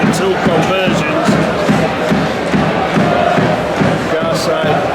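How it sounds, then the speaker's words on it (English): Halifax rugby league supporters cheer at a match against Swinton, a loud, dense crowd roar sustained throughout with scattered shouts rising above it. "Halifax supporters are cheering."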